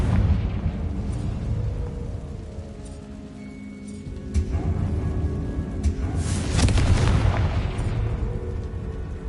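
A Confringo fire blast spell explodes in Hogwarts Legacy, a deep rumbling boom that swells over a few seconds into a loud, sustained roar, with a bed of low game ambience throughout.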